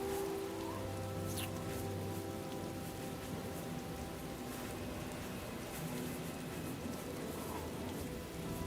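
Steady rain falls in the video game Oblivion: Shivering Isles, a constant soft patter that holds evenly with no voices.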